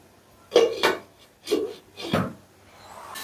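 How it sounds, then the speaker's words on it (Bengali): A lid is placed and settled on a pan of tomato omelette curry on a gas stove, making four close, separate metallic knocks and scrapes with short quiet gaps between them and no talking. "এবারে গ্যাসের আঁচটা মিডিয়ামে রেখে আমি 5 মিনিটের মতো ঢাকা দিয়ে দেব।"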